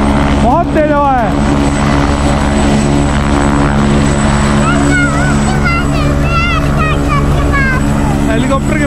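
Helicopter flying near Kedarnath Temple in the mountains of Uttarakhand, a steady engine and rotor drone running throughout under strong wind noise, with people talking and whistle-like tones over it.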